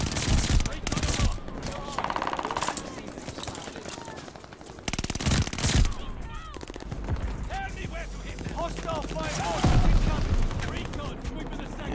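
Ball turret gunner machine gun fire in Call of Duty Vanguard, bursts of rapid shots that come and go with loud blasts, while voices shout in between and over the firing.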